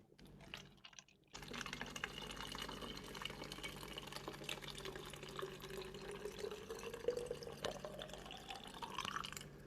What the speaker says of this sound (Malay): Saya nak isi penuh satu botol